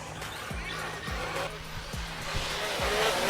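Whining RC cars, Traxxas among them, race past at an outdoor bash; a repeating pitched motor drone dips with each pass over a wash of ambient noise and distant crowd voices.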